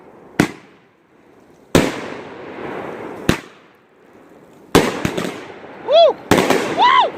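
Fireworks burst loudly and close at a family New Year celebration, several sharp bangs followed by crackling and whistling rockets rising near the end, with shouting voices between blasts.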